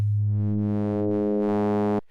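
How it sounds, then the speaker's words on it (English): A VPS Avenger 2 synthesizer oscillator plays a steady, harmonically rich sustained tone whose brightness swells and dips in slow sine-wave LFO cycles, loud and alone for about two seconds before cutting off. "for this demonstration, we go to a sine wave, and let's give this some depth here"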